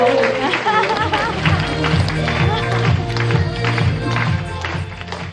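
Audience applause at a Korean education seminar, rapid scattered hand claps rising together throughout, with a voice talking over the clapping at close range.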